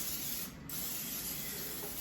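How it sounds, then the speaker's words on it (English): Pam cooking spray misted over a tray of gluten-free banana nut muffins, one continuous close hiss lasting about two seconds, with a brief dip partway through. "I'm gonna go ahead and give them a quick little spray with some Pam"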